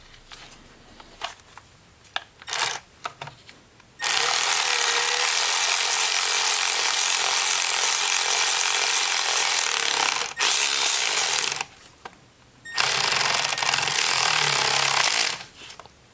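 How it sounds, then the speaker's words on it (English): A cordless ratchet drives a spark plug into the engine of a 2013-2019 Ford Escape. Two loud, steady mechanical whirring bursts, a long one and then a shorter one, are separated by quieter clicks and handling noises. "Now we could slowly bottom it out with the cordless ratchet."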